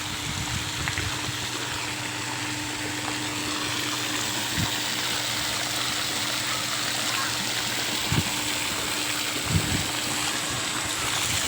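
Water runs continuously down a children's play water feature in an Australian garden, a steady trickling wash with a faint pump-like hum and a few soft knocks.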